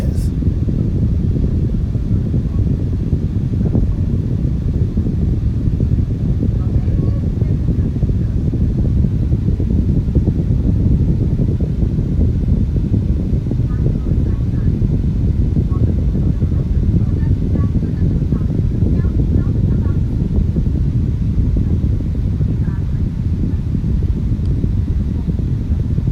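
Duracraft Chillout table fan running on its low setting, a steady, loud, close broadband whoosh of moving air with a low rumble underneath, continuous throughout.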